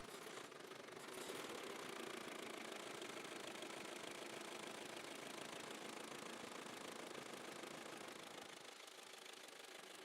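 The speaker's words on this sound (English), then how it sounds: "The car is powered by a front-mounted inline four-cylinder gasoline engine" A 110-year-old car's front-mounted inline four-cylinder gasoline engine runs steadily, a dense, continuous mechanical clatter and rumble holding at the same level for ten seconds, with no voices.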